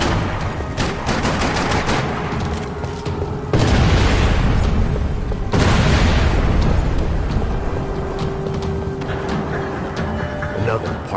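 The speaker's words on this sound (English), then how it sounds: "Another parking lot rattling with gunfire." Gunfire in the video game Max Payne 3, set in a New York parking lot: heavy booming shots and rattling bursts layered over continuous dense noise, loud and near, with no voices.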